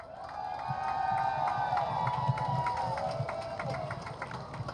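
A Fourth of July parade crowd in Bloomington cheers and applauds, a broad swelling roar with scattered claps, while a sustained tone runs over it.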